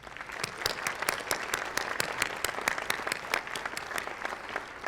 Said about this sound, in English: Let's let them know how much we appreciate them with a round of applause